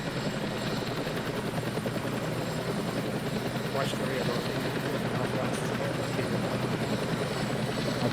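Helicopter rotor and engine drone in a military shooter video game, a steady loud thrum running throughout under radio-style voices giving orders.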